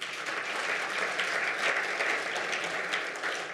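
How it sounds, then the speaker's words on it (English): An audience at a conference side event on Zimbabwe's debt arrears claps steadily for a few seconds, a dense, even round of applause in a meeting room with no talking over it. "I would like you to applaud the president for taking that decision."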